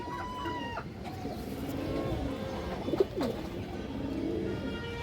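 Pair of pigeons cooing nearby, soft throaty coos repeated a few times over a low background, quiet overall.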